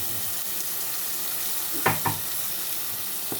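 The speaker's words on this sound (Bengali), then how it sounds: "মশলাটা একটু ভাজা হবে মশলাটা একটু ভাজা হয়ে গেছে" Spices fry in an oiled pan for curd-style bhetki fish, giving a steady loud sizzle throughout, with two quick scrapes of a stirring spoon near the middle.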